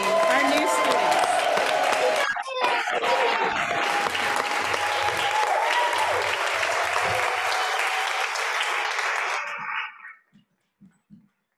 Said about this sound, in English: will you please join me in applauding, unmuting, waving, cheering, and celebrating our new students?